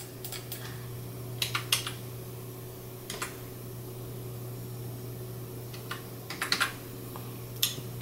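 Keys tapped on a computer keyboard while entering a tool height into a Mach 3 CNC tool table, heard as a few scattered quiet clusters of clicks over a steady low electrical hum.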